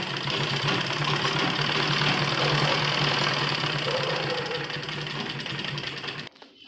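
A sewing machine runs continuously while stitching a kurti neck, a steady, fast mechanical rattle at close range that slows slightly near the end and then stops abruptly.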